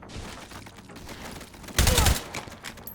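A short, loud burst of Steyr AUG rifle fire in the VR shooter H3VR's Institution map, a dense cluster of shots lasting about a third of a second, set against quieter game ambience.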